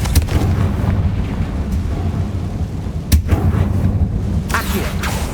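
A Confringo explosion spell goes off in Hogwarts Legacy, a loud blast over a dense, continuous wash of game combat noise, with sharp bursts near the start, in the middle and toward the end.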